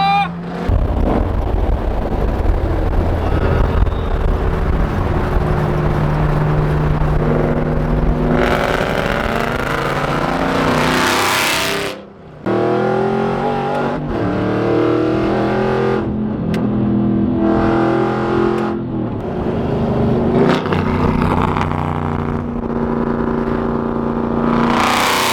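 Straight-piped Aston Martin Vantage roaring at speed along a Japanese expressway: a loud, continuous engine drone with rising and falling revs, gear-shift surges and heavy wind rush, close and overpowering throughout.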